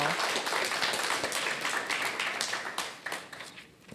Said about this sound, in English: How about another round of applause for Paulette?